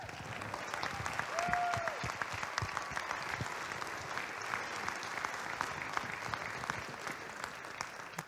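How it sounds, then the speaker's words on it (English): A banquet crowd at a university athletics hall of honor induction gives sustained, even applause for the 1963 SJU football team, a steady wash of clapping that holds for the full stretch. "a round of applause for those gentlemen"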